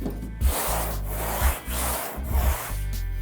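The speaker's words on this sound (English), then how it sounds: "So this is called block sanding." Steady, rhythmic rasping strokes of a sanding block rubbing back and forth across a car body panel, close up, with no talking.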